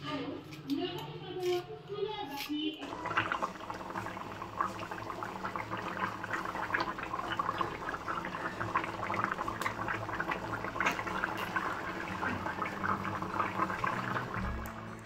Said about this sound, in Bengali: এক গাদা বাসন খেয়েছি, বাসনগুলো ধুয়ে নিই, ধুয়ে পরিষ্কার করে বাসনগুলো ধোয়ার পর মাছ মাংসটা ধুবো